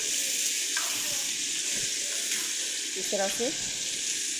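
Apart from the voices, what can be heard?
boneless chicken frying on high flame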